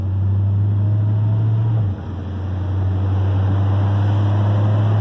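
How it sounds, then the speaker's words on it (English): A 1965 Dodge Polara's engine idles with a steady, deep low rumble that holds close and continuous, dipping briefly before settling back to an even drone with no talking. "there's a little bit of a sound from the engine. Got that low rumble."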